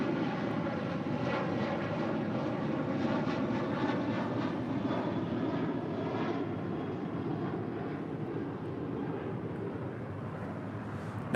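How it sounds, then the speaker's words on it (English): A Boeing 737-900ER rolls down the runway for takeoff at LAX, a strong, steady jet engine roar with a whining tonal layer, heard alone and fairly close throughout. "737-900ER already rolling down to 5 right"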